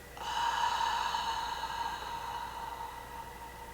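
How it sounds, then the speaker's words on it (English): A slow, deep breath drawn through the nose and let out through the mouth during restorative yoga, a steady, airy whoosh close by that gradually softens over several seconds. "Let's take a couple deep slow breaths together."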